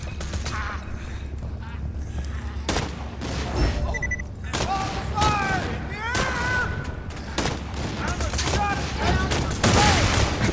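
Rapid gunfire bursts from weapons in the Borderlands 2 video game, several sharp volleys scattered across the stretch amid game effects, with a voice talking at points.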